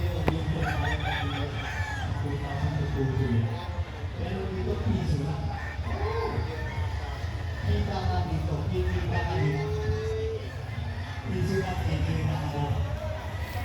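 Gamefowl roosters at a breeders expo in Clark crow and cluck again and again, some near and some farther off, under the steady hubbub of a crowded hall, while someone talks throughout.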